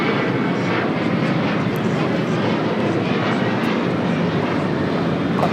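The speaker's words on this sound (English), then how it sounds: "This is Delta Airlines 1112 taking off to New Orleans on a 737-900ER." A Delta Airlines Boeing 737-900ER takes off from LAX with a loud, broad jet roar that stays heavy and sustained throughout, with no voices over it.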